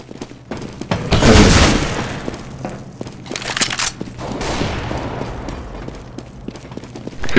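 Gunfire in Counter-Strike GO as an auto sniper duel breaks out: a loud, sharp shot bursts out near the start, followed by another blast and scattered clicks and thuds as the round continues, with no talk.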